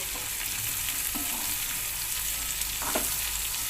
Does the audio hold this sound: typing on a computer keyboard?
no